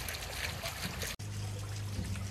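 Water trickles steadily from a garden pond fountain, a close, continuous splashing babble. Partway through there is a brief cut, followed by a low hum beneath the flow.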